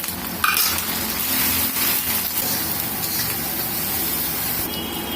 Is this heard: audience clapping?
no